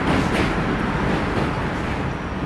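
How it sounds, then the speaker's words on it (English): New York City J, M and Z subway trains in Brooklyn: a broad, continuous rumble and roar of passing rail cars, loud and close, with no voices over it. "J, M, and Z trains here."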